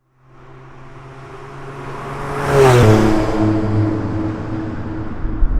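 A DeLorean car approaches and passes by quickly, a rising engine whoosh swelling to a loud peak and then fading slightly, with a brief rumble at the end.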